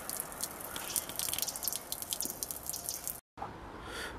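Water trickling from a low-pressure canal water point into a boat's tank, a faint steady splashing with drip-like flickers and a brief dropout near the end.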